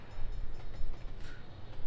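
A train in Trains Railway Simulator rumbles past at moderate level, a steady low roar with a brief brighter whoosh midway, with no voices.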